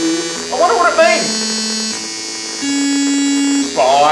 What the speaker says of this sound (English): it is putting some form of background electrical signal that's getting picked up by the solar panel.